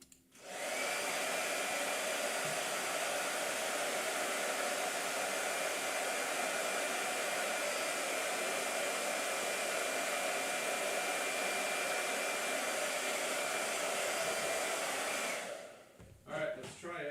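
A blow dryer runs over a hot press sketchbook page, a loud, steady whooshing roar that holds for about fifteen seconds before cutting off abruptly, with no talking.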